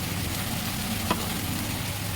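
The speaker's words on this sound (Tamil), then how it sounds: "அடுத்து நம்ம அரைச்சி வச்ச தக்காளி ஊற்றிட்டோம். நல்லா கிளறி விட்டுக்குங்க." Ground tomato is stirred into mutton curry frying in a pan, a steady close sizzle with soft scraping, one brief clink partway through, no talk.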